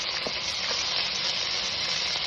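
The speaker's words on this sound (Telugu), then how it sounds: "ఆ క్యాబేజ్ని అందులో వేసుకోవాలి. క్యాబేజ్ బాగా ఫ్రై కావాలి." Washed cabbage fries in hot oil for a chutney, giving a steady, even sizzle and hiss with occasional faint stirring, close and moderately quiet, with no one talking.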